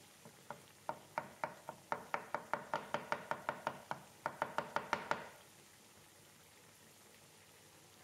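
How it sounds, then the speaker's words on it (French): A knife chops crushed garlic on a board with about twenty quick, crisp taps in a steady rhythm, fairly close but soft, before stopping and leaving quiet kitchen background. "j'écrase encore l'ail, dont j'avais enlevé le germe. C'est pour le hacher"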